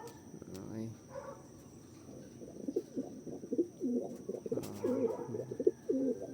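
A young racing pigeon, nearly two months old, coos in an aviary with soft repeated throaty calls at close range, while someone talks quietly in the background.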